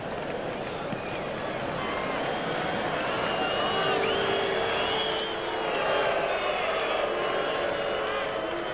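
Crowd at the 1984 US Open tennis semifinal between Lendl and Cash, a sustained murmur of disapproving noise from Cash supporters swelling and fading under commentators talking.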